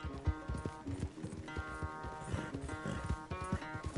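Horse in Red Dead Redemption II clip-clopping with steady, rhythmic hoofbeats and snorting over a bright tonal musical bed, fairly close and moderately loud.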